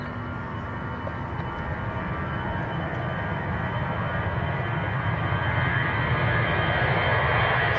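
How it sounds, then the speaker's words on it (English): An EasyJet jet airliner bound for the Isle of Man at Manchester Airport, its engines giving a steady, fairly distant roar that slowly builds over the whole stretch, with no other sounds on top. "this is EasyJet to the Isle of Man."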